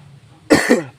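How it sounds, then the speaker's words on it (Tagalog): A single harsh cough, close and loud, made of two quick bursts, with faint background hum before and after. "May ubo pa rin tayo"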